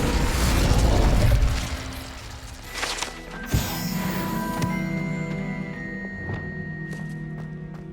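An Incendio fire spell cast in the Hogwarts Legacy video game starts with a loud rumbling whoosh, then a sharp pop of impact followed by a lingering crackle and ringing magical tones that fade out.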